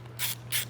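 Two short ratchet bursts as T25 screws are snugged into the plastic blower motor regulator of a Volvo XC90, close and fairly loud over a steady low hum, with no talk.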